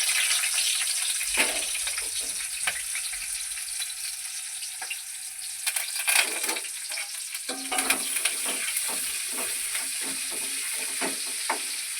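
Chopped tomato and onion sizzling in hot oil for a quail egg gravy, a continuous bright hiss broken by scraping stirs and occasional louder crackles, close and without talk.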